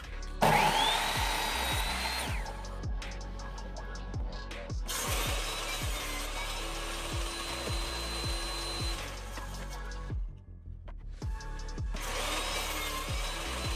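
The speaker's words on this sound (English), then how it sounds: "I'm gonna start with just cutting the edge off of one side" A power tool cuts the edge off a piece of scrap wood, running in loud sustained bursts with short pauses between passes, close and without talk.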